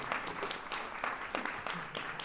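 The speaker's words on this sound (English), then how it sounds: "Please, a big hand for them." An audience claps steadily and warmly after a crowd music performance, the applause dense and close, fading slightly toward the end.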